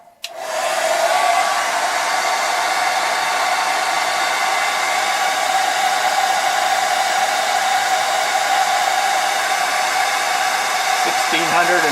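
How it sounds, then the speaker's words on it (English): A hair dryer switches on and roars steadily at full power, running from a Bluetti AC200P portable power station, a loud continuous blowing whine with no talking. "Now I'll fire up the hair dryer to max."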